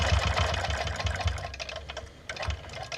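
A sewing machine stitches steadily while quilting a curve around a ruler, its needle running in a fast, even mechanical chatter with brief slowdowns, close and clear with no talking.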